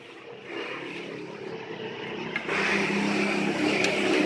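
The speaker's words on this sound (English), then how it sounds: "My house is beside the road, so there are a lot of motorcycles" Motorcycles pass along a roadside house, a steady mid-distance traffic rumble that swells louder halfway through as another bike approaches, with a faint snip of pruning shears on poinsettia branches.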